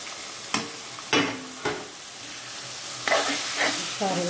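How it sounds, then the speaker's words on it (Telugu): Eggplant paste is stirred into a sizzling tempering of spices in hot oil, with several sharp scraping and clattering stirs over a continuous close crackling fry. "ఇప్పుడు ఈ పోపులో ఈ వంకాయ ముద్దను వేసేసుకోవాలి."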